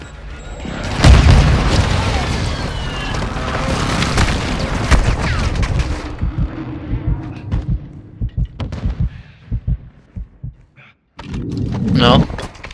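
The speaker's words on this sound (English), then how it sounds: "Friendly airstrike in the AO" An airstrike in the Modern Warfare 2 video game hits with heavy, rumbling blasts that roar on for several seconds. Scattered crackling debris and sharp bangs follow, then a loud new burst comes near the end.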